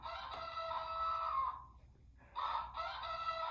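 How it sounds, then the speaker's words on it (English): A rooster crows loudly and close, one long call followed by a brief pause and a second crow, heard alone with no speech. "3 times before the cock crows. And it happened."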